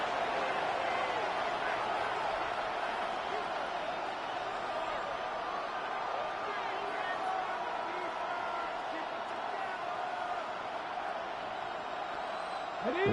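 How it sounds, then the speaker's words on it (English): Steady roar of a stadium crowd cheering in a Pittsburgh Steelers versus Cleveland Browns NFL video game, held at a constant, fairly loud level for the whole stretch, with faint whoops and broadcast-style texture in the mix. "This crowd turning up the decibel level."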